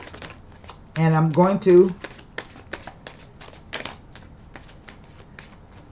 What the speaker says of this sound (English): shuffle the cards, rifle them one more time